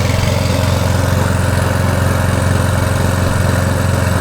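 A petrol lawn mower engine runs steadily about a metre away, loud and continuous with a rough, pulsing low drone and no voices over it.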